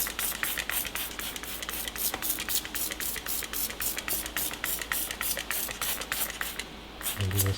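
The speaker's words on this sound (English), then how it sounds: "I'm going to take this Z9 Zano cleaner and I'm going to just saturate the seat." Z9 Zano cleaner spraying onto a Mercedes GLE 63S car seat in rapid repeated trigger bursts, close and hissy, with a brief pause before the final sprays.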